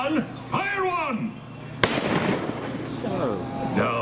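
A cannon aboard the Disneyland sailing ship Columbia fires one sudden, loud blast that rolls off into a fading rumble, with a voice speaking before and after.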